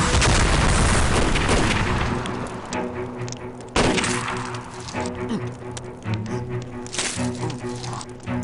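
A rocket explodes in a war-drama battle scene, an enormous close boom that rolls into a long rumbling roar, followed by a second sharp blast and continuing crackling gunfire and debris.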